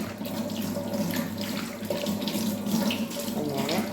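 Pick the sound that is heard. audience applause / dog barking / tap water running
tap water running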